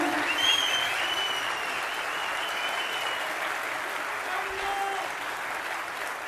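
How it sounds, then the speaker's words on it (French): Continuous audience applause fills a hall at a French political meeting presenting a presidential and legislative programme, a steady wash of clapping with some crowd noise and faint voices beneath. "Applaudissements, s'il vous plaît."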